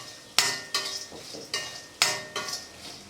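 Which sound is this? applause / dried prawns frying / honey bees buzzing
dried prawns frying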